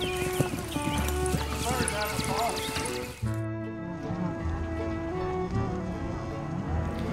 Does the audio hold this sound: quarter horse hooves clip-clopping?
yes